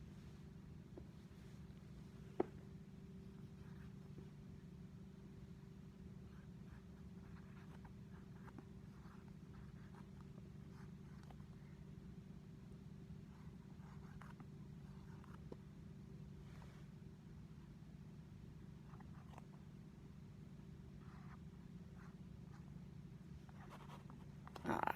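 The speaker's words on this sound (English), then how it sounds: "I'm going to write the equation again right quick." Someone writes out a chemical equation by hand, a faint, intermittent scratching over a steady low room hum, with one sharp tap early on and a small knock at the very end.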